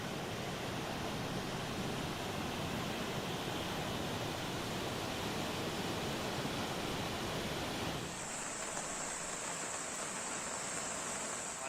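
Heavy rain pours in a dense, steady hiss with no voices. Around eight seconds it thins and a higher, fainter wash takes over.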